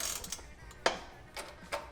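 A socket wrench ratchets on the rear nuts of a Honda CB200T motorcycle in a garage build, with a few short clicking bursts and sharp metallic taps spaced out, close and moderately loud.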